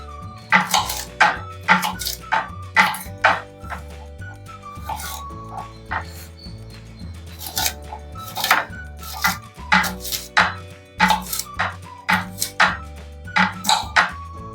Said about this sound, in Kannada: ನಾನು ಸ್ವಲ್ಪ ದೊಡ್ಡ ಪೀಸ್ನಷ್ಟು ಬೆಂಡೆಕಾಯಿ ಕಟ್ ಮಾಡ್ಕೊಳತ್ತೀನಿ.